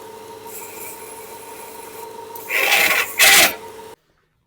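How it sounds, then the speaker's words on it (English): Belt sander with a 220-grit belt deburring steel bolts, a steady whirring hum that breaks into two loud rasping grinds as a bolt is pressed to the belt, then cuts off abruptly. "At the Ameribraid belt sander, I got this equivalent to 220 grit."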